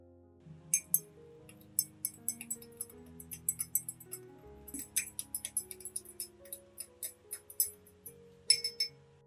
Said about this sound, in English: add a half of teaspoon of baking soda, and stir thoroughly until it has completely dissolved